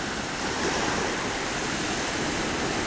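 Ocean waves wash in a continuous, broad hiss of surf, steady and enveloping with no distinct breaks, heard alone as a meditation backdrop.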